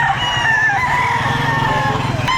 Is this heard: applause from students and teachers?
no